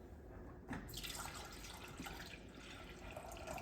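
Milk pours into a pot on a stove for hot cocoa, a soft continuous liquid stream with faint splashes, quiet and close, alone without talk.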